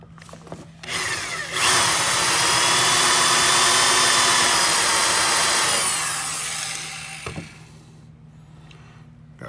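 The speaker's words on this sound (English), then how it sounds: "You don't need to drill all the way through the lock." A power drill bores into a Bargmann L-66 door lock on a vintage Serro Scotty camper, a loud continuous whine lasting several seconds, with brief clicks before and after.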